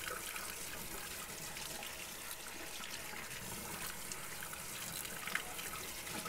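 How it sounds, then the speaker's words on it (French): Water rinses stripped car and motorbike parts after decapage, a soft, steady spray and trickle that stays fairly faint. "on va lui donner tout simplement un petit coup de nettoyage à l'eau"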